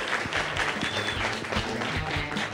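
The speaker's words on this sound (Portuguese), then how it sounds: "Palmas para os caras." Applause from a studio audience for a performing group on a local TV program, dense steady clapping throughout, fairly loud and close with a faint crowd murmur beneath.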